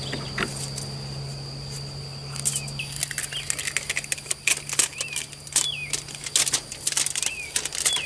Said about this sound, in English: Then we're gonna take our tape and tape that down.